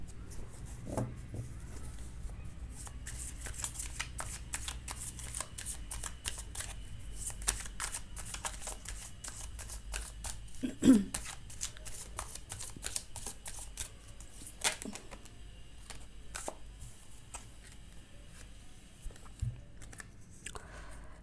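Tarot cards are shuffled by hand in a steady run of quick, crisp riffles and slaps that carry on close-up and fairly soft throughout, with no talking.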